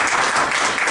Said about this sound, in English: So can we just have a round of applause again?